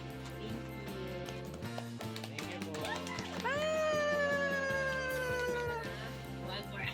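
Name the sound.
cat meowing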